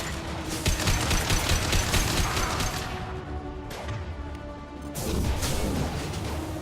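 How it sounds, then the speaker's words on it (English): Impact shot gunfire in Mass Effect 2 comes as loud, rapid bursts of crashing shots and booming impacts. There is a short lull before the barrage resumes. "Firing an impact shot!"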